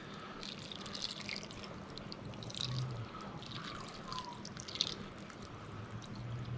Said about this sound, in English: Now I will add just a couple more cups of water.